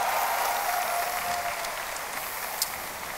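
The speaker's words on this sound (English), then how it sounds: "give yourself a round of applause for being here." Audience applause fills a OnePlus 6 phone launch event, a dense steady clapping from a large crowd throughout, with a faint tone lingering underneath early on.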